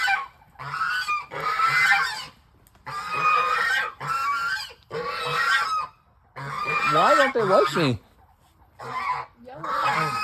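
Caged geese on a farm honk repeatedly in loud, harsh bursts nearby, with brief gaps between calls; a person speaks briefly amid the noise.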